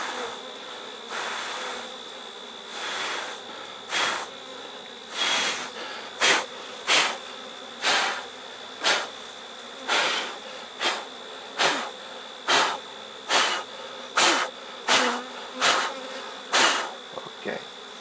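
Honeybees hum inside a drone-laying hive being requeened, a close, continuous buzz broken by loud, regular bursts about once a second as the colony stirs, with no voices.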